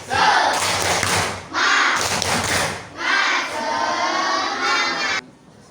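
A school class does a rhythmic spirit clap in short loud bursts, children clapping and slapping in patterned beats while chanting along in shouted voices, each burst separated by brief pauses before the group falls quiet.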